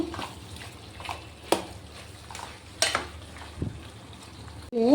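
Pepper chicken frying in a pan gives a soft, steady sizzle, broken by several sharp scrapes and clinks as a spoon stirs it, close by and with no talk.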